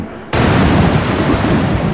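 A thunderstorm with heavy rain starts abruptly, loud and close: a dense, roaring wash of downpour mixed with low thunder rumble, no voices.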